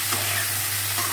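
Vegetable stems and potatoes frying in a pan, a loud, close, continuous sizzle with a steady low hum underneath.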